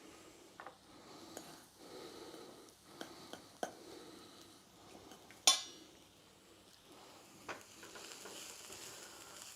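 Shallots fry quietly in a pan with a soft, steady sizzle, broken by occasional clinks of a utensil against the pan and one sharper metallic knock.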